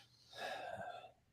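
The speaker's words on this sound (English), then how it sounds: "Yawn overtook me." One person gives a single breathy yawn that swells and then trails off over about a second, close and fairly quiet, with no words.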